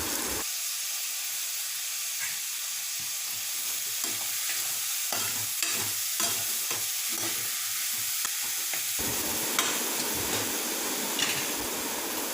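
Curry leaves hit hot oil in a pan of mutton bone soup, giving a steady bright sizzle and hiss with scraping stir strokes underneath, then a sharper, louder frying burst near the end, with no talking.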